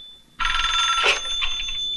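Telephone ringing in a 1996 Hindi film scene, a bright sustained electronic ring that starts abruptly and carries on loud and alone to the end.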